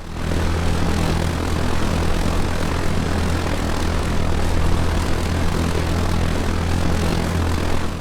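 A military surveillance airplane in the video game ARMA 3 flies overhead with a loud, steady propeller drone and engine roar that holds constant throughout, with no talk.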